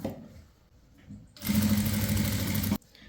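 A sewing machine runs a continuous burst of stitching on chudithar lining, a steady buzzing whir lasting about a second and a half before stopping abruptly, with quieter handling sounds around it.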